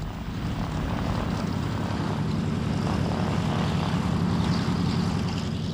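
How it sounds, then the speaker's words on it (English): Piston engines of a Douglas Dakota, the World War II transport aircraft, drone steadily and loud throughout, a dense low propeller throb with no talk. "The Dakota, the prominent workhorse of World War II, was, and probably still is, the world's best known and most loved aircraft."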